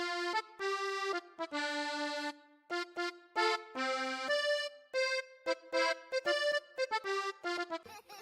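A melody programmed in FL Studio plays as a bright, harmonically rich synthetic lead, a string of sustained and clipped notes stepping up and down in phrases with brief gaps, alone without any voice.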